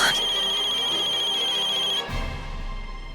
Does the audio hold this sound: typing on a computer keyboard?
no